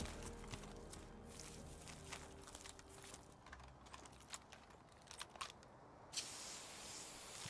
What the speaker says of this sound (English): Oh, spray paint.